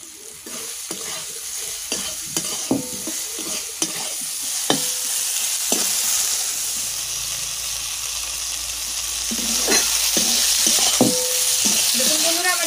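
Brinjal pieces for neem chhechki fry in a hot pan, with irregular loud scrapes and knocks of the stirring spoon over a sizzle that swells into a dense hiss toward the end.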